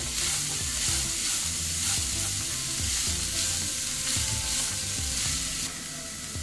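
Chicken and potatoes stir-fry on a mid-high flame for an iftar snack, giving a steady, loud sizzle with scraping stir strokes throughout and a slight drop near the end.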